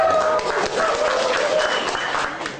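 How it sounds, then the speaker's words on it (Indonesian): Audience applause at an Indonesian business talk, a dense wash of clapping filling the room for a few seconds, with scattered voices and faint tonal sounds mixed in. "Jangan pelit-pelit kalau tepuk tangan"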